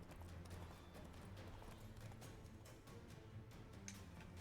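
A horse gallops in the video game Witcher 3, its hoofbeats clopping in a steady, rapid rhythm throughout, fairly quiet and unbroken.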